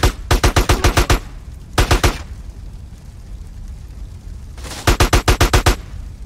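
Gunfire in Grand Theft Auto San Andreas comes in three rapid bursts of loud close shots. The first burst has about eight shots, the second is a short run of three, and the last has about seven, with quiet gaps between.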